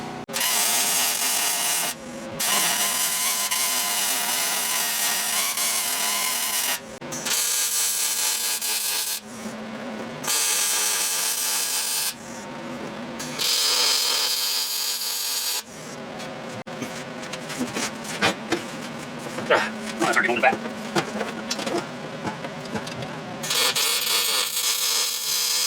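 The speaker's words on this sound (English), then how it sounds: "I'm fixing to weld it all the way in." Welding on a car's spring tower gives loud, continuous buzzing crackle in bursts of several seconds, separated by short silences, with a more irregular sputtering stretch near the end.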